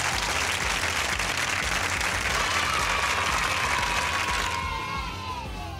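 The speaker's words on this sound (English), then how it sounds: "Everybody applaud for the Quag being dead and gone." Sustained dense applause and cheering from a crowd, loud and steady throughout, with a faint falling tone gliding underneath toward the end as the clapping thins slightly.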